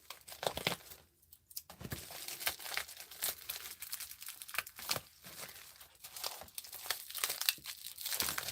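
Crinkling and crackling of plastic packaging being handled and torn open, with irregular bursts of rustling close to the listener, no speech.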